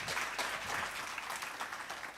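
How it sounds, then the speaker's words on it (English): A conference audience claps in steady, fairly soft applause, a continuous patter of many hands from across the room. "Another round of applause, still with a good 10 seconds to spare."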